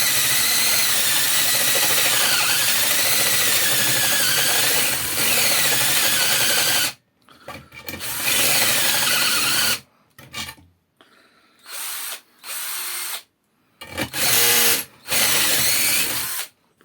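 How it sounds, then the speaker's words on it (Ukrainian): A power drill fitted with AliExpress drill bits bores into material, starting with a long continuous grinding run and then breaking into short separate bursts with pauses between them, loud and close, with no talking. "важко на більших обертах сверлити."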